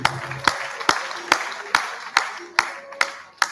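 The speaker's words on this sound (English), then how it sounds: "Yes, please clap your hands together." At a university lecture, sharp evenly spaced claps sound about twice a second, each ringing briefly in a reverberant hall, like a single pair of hands or a small slow group keeping time.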